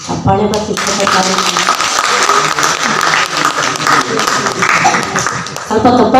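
Audience applause fills an auditorium after a Kannada song performance, steady dense clapping from many hands that runs the whole stretch, beginning right after a brief sung phrase and swelling slightly again near the end.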